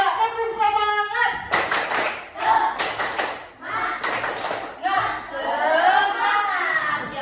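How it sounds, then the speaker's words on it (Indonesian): Schoolchildren in a classroom perform a rhythmic spirit clap, with several sharp bursts of group clapping landing in a patterned beat. Young voices chant and cheer between and over the claps. "Coba tepuk semangat."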